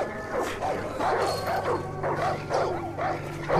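Dog in the video game Far Cry 5, repeated close yips and whimpering barks in short bursts over a steady background game hum.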